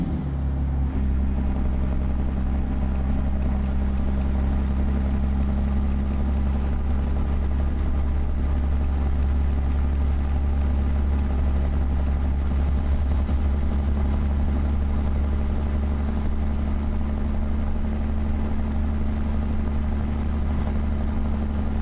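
A truck engine drones steadily at cruising speed in the American Truck Simulator game, loud and continuous with a constant low rumble and a faint high whine, no voices.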